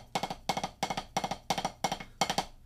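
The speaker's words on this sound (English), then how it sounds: "so like the traditional ride pattern would sound like this," Sticks play a traditional ride cymbal pattern on a drum practice pad. The taps are quiet and dry, grouped in regular repeating clusters of three, seven groups in a steady swing.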